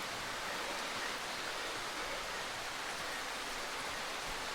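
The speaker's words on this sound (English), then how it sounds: "Uh-oh, rain." Rain falls steadily in the horror game Darkwood, an even, hissing wash at moderate loudness with no talk over it.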